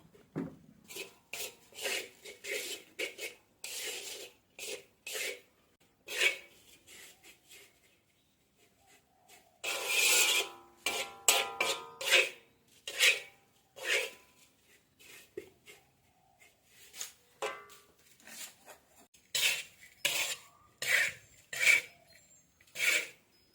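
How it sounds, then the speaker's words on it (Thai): A spatula scrapes and tosses shredded pork floss in a pan over low heat until it is dry, producing repeated short rasping strokes in an uneven rhythm, close and moderately loud, with brief pauses between bursts. "ผัดจนแห้งเลยค่ะ คั่วจนแห้งสนิท"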